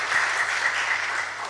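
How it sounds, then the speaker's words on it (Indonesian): A church congregation at a Toraja community Christmas celebration in Bali applauds their pastor, a steady, dense wash of many hands clapping throughout, close and even in loudness. "Kita berikan tepuk tangan dulu kepada Pak Pendeta."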